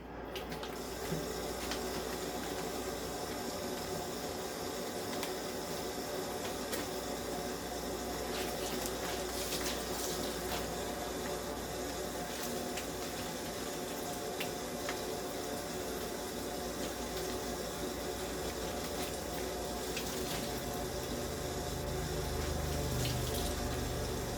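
Tap water runs steadily into a sink to wet tie-dye items, a continuous broadband splashing rush that holds for the whole stretch at a constant moderate level, with no talk over it.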